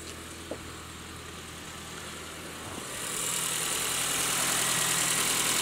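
A car engine idles steadily after its coolant system was opened and drained, a low continuous hum that swells a little louder and brighter about halfway through, with no talking.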